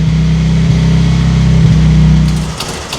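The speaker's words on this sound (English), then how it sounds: "this idle is like it's 6 cylinders is missing, but at least it's running" A car engine idles roughly after a new exhaust is fitted, its steady loud low drone carrying uneven lumpy pulses as if cylinders misfire, then settling and thinning out near the end.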